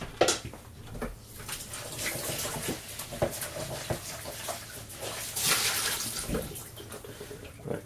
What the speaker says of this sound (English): I'm just going to quickly wash this bowl out